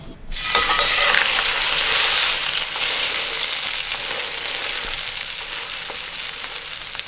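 A sous vide rack of lamb drops into smoking-hot canola oil and sears with a loud, close, continuous sizzle and crackle that stays strong throughout, fading slightly; no voices.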